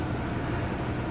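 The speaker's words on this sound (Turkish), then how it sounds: "Klimamız açık. Motorumuz çalışır durumda." Peugeot 307 idling with the air conditioning running, a steady broadband engine hum and blower rush filling the cabin, close and constant with no voices.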